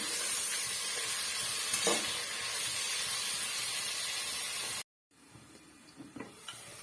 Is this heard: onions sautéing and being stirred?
yes